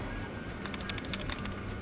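Keys on a computer terminal in the game Fallout: New Vegas clatter in a quick, irregular run of light clicks, faint and close, with no talking.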